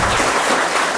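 A quiz-show audience applauds a school student contestant with dense, loud, steady clapping that fills the entire moment.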